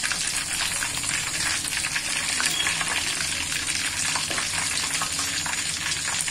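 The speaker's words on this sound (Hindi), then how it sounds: "बाकी के पीसेस हैं उनको भी हम फ्राई कर लेते हैं" Pieces of fish pakoda, battered fish for a crispy street-style fry, bubble in deep hot oil, a dense continuous fizzing crackle heard up close and unbroken by any voice.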